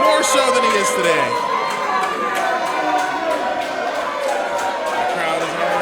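A wrestling show crowd roars and cheers continuously at Nic Nemeth's entrance, dense shouting and whoops filling the venue at steady loudness with no pauses.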